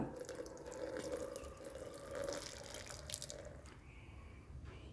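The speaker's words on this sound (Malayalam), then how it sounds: "അതിലേക്ക് തേയില വെള്ളം അരിച്ചൊഴിക്കുക" Hot tea decoction is strained and poured into a cup with sugar, a faint continuous trickle of liquid that thins out toward the end.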